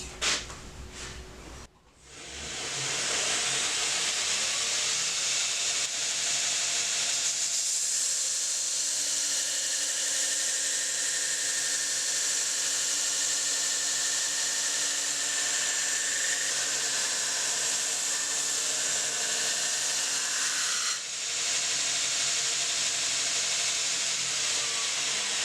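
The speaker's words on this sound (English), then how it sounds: "When I grind freehand." A belt grinder runs continuously while a knife blade is ground freehand, a steady loud abrasive hiss and whine lasting over twenty seconds, with a brief dip near the end as the blade lifts and returns.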